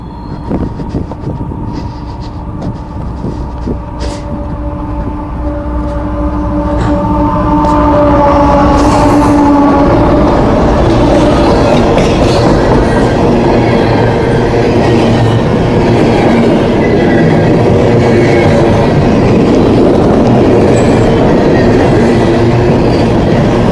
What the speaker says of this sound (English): Coal train, I think.